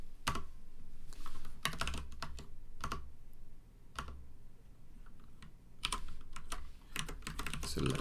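Fingers type on a computer keyboard in short, irregular clusters of close key clicks, separated by brief pauses and a low background hum.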